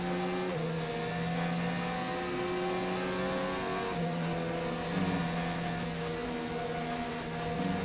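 Onboard a GP2 racing car at the Belgian Grand Prix, the engine howls loud and steady, its pitch climbing through the gears with sharp drops at each upshift, no talk.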